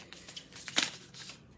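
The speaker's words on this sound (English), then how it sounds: "And I shuffled" Tarot cards being shuffled by hand, a soft, close riffling with quick papery flicks and one sharper burst in the middle, faint and without speech.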